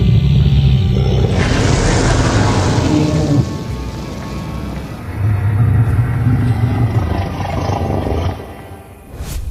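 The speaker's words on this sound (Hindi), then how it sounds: "ये किसकी गरजने की आवाज है?" A ghost cow's deep, drawn-out roar, used as a sound effect in a spooky Hindi folk story, rumbling loud and sustained in two long swells with no speech.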